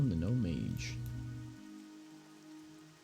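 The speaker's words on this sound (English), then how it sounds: "Very rainy day in Loch Modan." In-game rain falls in Loch Modan in World of Warcraft Classic as a soft, steady hiss. A voice talks over it for the first second and a half, then the rain continues on its own.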